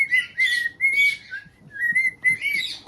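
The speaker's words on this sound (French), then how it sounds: "Il sait mieux siffler que moi." Someone whistles a bright, tonal tune in short phrases with small pauses between them, close and clear, with faint background noise and no talking.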